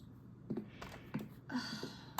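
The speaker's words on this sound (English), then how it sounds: "That was the sound of my mouse clicking to the next panel when I was recording." A few sharp, quiet clicks spaced irregularly over a faint background hiss, like a computer mouse button being pressed, with no talking.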